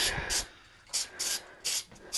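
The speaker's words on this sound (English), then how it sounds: "Spray a little more." Three short hissing bursts of an aerosol spray adhesive can, evenly spaced, close and fairly loud, with quiet between them, basting a quilt on a table.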